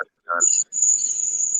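Crickets chirp outdoors in Florida, a thin, steady high trill carried over a phone line, with a brief voice just before it starts.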